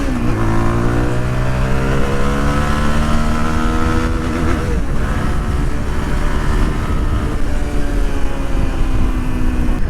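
A Zontes GK 350 single-cylinder motorcycle engine revs hard toward high rpm, pitch sweeping up and falling back in loud, close pulls with a brief dip midway, no talking.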